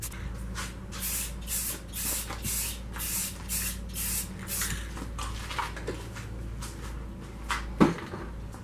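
A spray can lays a coat of paint onto a catch can mounting part for a Honda Civic build, heard as a run of close, hissing bursts in a quick repeating rhythm, each lasting a fraction of a second.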